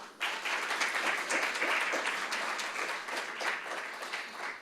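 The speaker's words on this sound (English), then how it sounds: "So let's give one more round of applause for the panelists and the moderator." Sustained audience applause for the panelists and moderator at the close of a panel discussion, steady dense clapping from a crowd filling the whole stretch at even volume.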